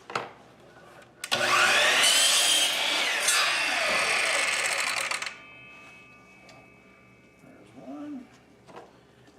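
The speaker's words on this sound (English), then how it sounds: "I'm just going to cut some pieces off here that match." Saw cutting matching pieces off box elder wood, a loud sustained rasp of about four seconds that stops abruptly, followed by quieter handling and shuffling.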